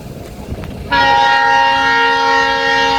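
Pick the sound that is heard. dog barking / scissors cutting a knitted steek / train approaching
train approaching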